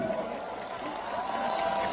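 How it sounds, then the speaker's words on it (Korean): A concert crowd at an outdoor stadium festival cheers and applauds as a singer is welcomed to the stage. A broad, continuous roar of clapping and shouting holds steady at moderate loudness, with a voice faintly over it. "여러분 더큰 박수와 함성으로 맞아주세요."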